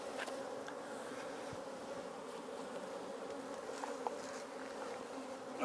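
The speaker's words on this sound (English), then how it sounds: "I'll give them a smoke just to get the bees off the queen excluder" Honey bees buzzing at an open hive during a hive inspection in a borage crop: a dense, steady drone of many bees fills the whole stretch at close range, with no voices.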